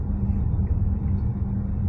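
Low, steady road rumble and drivetrain hum inside a moving 2023 Hyundai Santa Fe Hybrid Highlander with all-wheel drive, continuous and even, heard from the cabin with no talking.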